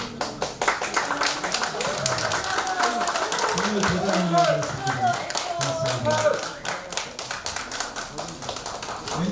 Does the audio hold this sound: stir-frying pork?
no